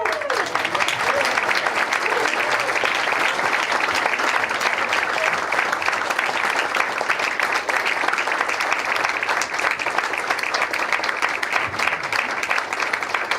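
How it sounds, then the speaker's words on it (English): An audience at an awards ceremony of a planetarium conference applauds in sustained, dense, even clapping that lasts the whole stretch with no break or rise. "they clapped longer than I thought"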